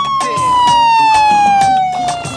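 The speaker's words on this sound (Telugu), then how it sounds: "అంబులెన్స్ వచ్చేసిందయ్యా." An ambulance siren wails loudly and close, a single sustained tone sliding slowly downward, with some thumping and rumble beneath it.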